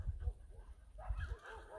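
Dogs at a shelter making low whimpering, grumbling vocal sounds in short bursts, close and fairly quiet, with some background voices.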